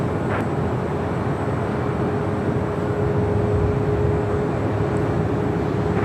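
A Breeze Airbus A220-300 takes off at LAX with a steady, broad jet roar, constant and moderately loud at a distance, with no talking.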